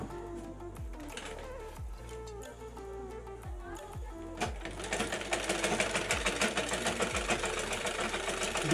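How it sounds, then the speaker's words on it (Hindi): Domestic sewing machine stitching fabric while being tested for a thread-breaking problem: a steady mechanical clatter with repeated ticking strokes, running faster and louder in the second half, alone with no talking. "देखते हैं गाइस सिलाई करके कि चल रहा है या अच्छे से चल रहा है या नहीं चल रहा है।"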